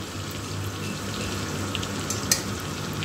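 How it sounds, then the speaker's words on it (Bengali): Hard-boiled eggs frying in oil for a Bengali egg malai curry, giving a steady close sizzle with a brief sharp spatter pop near the end and no talking. "সুন্দর করে ভেজে নেব, একটু লাল করে ভেজে নেব।"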